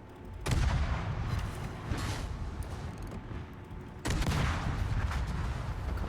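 Gunfire in a first-person shooter: sustained rapid volleys with heavy booming low end, a sudden fresh burst partway through, with no voices.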